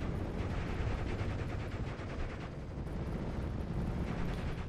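Dense, continuous gunfire and battlefield rumble in the WWII strategy game Steel Division Normandy 44, with machine guns rattling amid loud, sustained noise and no voices.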